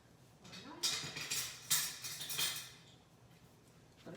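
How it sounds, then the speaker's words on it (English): A spoon scrapes and scoops mayonnaise into a bowl for potato salad, giving a few soft, close scraping and clinking strokes against the bowl in a quiet kitchen. "So just spoon in quite a bit of mayonnaise"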